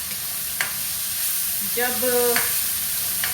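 Ginger and garlic fry in a pan over low heat, giving a soft, steady sizzle with a brief stirring scrape in the middle and a short spoken word over it.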